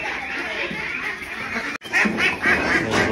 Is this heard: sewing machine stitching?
no